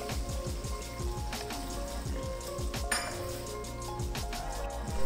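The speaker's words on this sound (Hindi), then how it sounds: "और अभी इसको 3-4 मिनट इसी तरह मैं फिर पानी का छींटा दे दे के इसको मैं भूनती जाऊंगी।" Mutton liver sizzling and frying in a pan with splashes of water, a steady crackling hiss at low level with faint utensil knocks, no talk.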